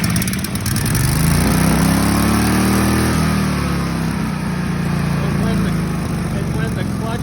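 A Toyota 40 series engine idles steadily and loudly nearby, with a low rumbling drone that swells slightly midway, while a voice talks over it.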